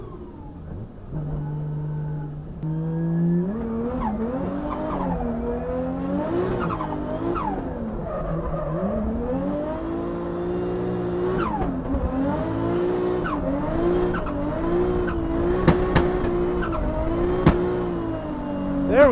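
A BMW E36 reverses at full speed with its engine revving and rising and falling in pitch, tires skidding and squealing, while the car sound swells and varies throughout and grows louder toward the end.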